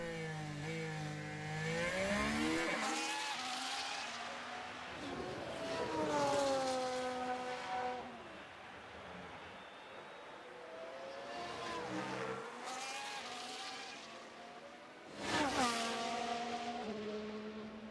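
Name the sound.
F1 race cars in video game F1 Manager 2023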